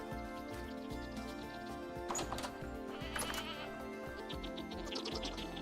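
Goats bleat repeatedly inside a pen in the modded survival game Vintage Story, several short calls over a steady background music bed, with no talking.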